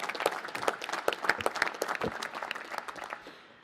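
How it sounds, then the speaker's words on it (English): A crowd claps in a lively round of applause that gradually thins and fades toward the end. "Give a round of applause to the Department of Energy."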